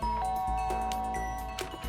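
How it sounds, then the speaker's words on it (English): Doorbell chime in the Danganronpa video game, a short electronic ding-dong tone ringing over steady game background music, brief and clear with no voices. "I guess I should press the doorbell"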